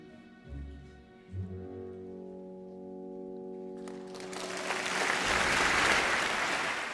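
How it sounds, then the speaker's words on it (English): At an opera watch party, sustained sung and orchestral notes fade out and a loud, dense wash of audience applause swells up and continues to the end. "People started clapping."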